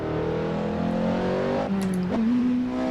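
The Porsche 918 engine in the racing game Assetto Corsa gives a loud, steady drone that dips as the revs are scrubbed off, then climbs again with a rising whine.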